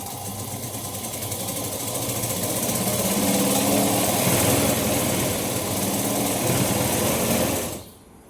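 A motorised sewing machine stitching a blouse, run by a foot pedal, whirs at a steady high-pitched hum that builds slightly, holds loud and close, then stops abruptly near the end.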